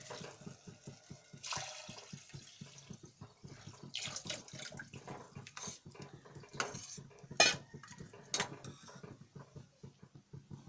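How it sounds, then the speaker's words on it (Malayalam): Water is poured into a pot of cooking dal for a restaurant-style dal curry, a quiet running splash mixed with rhythmic clinks and scrapes of a utensil against the pot. "ഇനി ഇതിലേക്ക് വെള്ളം ഒഴിച്ചു കൊടുക്കാം."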